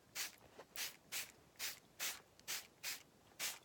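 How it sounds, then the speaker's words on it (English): Vinegar and tea tree water sprayed onto boxing gloves, eight sharp hissing bursts from a spray bottle in a steady rhythm, close and clear with short pauses between. "I like to spray it down real good all the way around"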